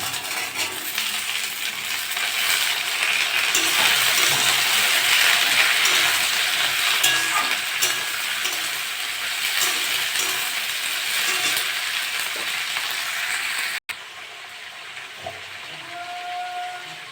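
Onion and green chili frying in a pan for a potato and long bean dish, a loud, steady close sizzle and hiss with faint stirring clicks that drops abruptly near the end and carries on quieter.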